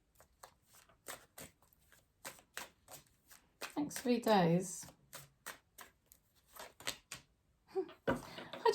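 Tarot cards are shuffled repeatedly in quick crisp riffles and taps, with a louder flurry of shuffling in the middle and someone speaking softly between the bursts.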